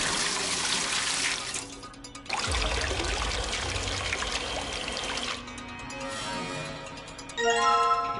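Water runs from a machine in a video game as it is changed, a rushing pour that stops, restarts with a deeper gush, then gives way to lighter trickling and chiming tones.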